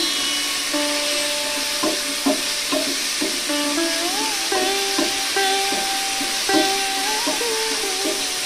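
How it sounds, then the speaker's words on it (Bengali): Potatoes fry and get stirred in a pan, a steady sizzling hiss with repeated scraping strokes of a spatula running through the whole stretch, fairly loud and close, with no one talking. "এবার আমি আবার একটু নেড়ে চেড়ে নিব, আলুটাকে একটু ভাজবো।"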